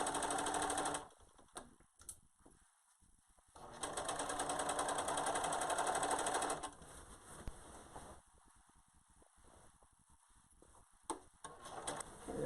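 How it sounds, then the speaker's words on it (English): A sewing machine runs steadily stitching the side seam of a fabric gown, its fast rhythmic needle chatter starting and stopping in a few close, bursts with short pauses between runs. "I literally am just going to run it and keep going around the corner."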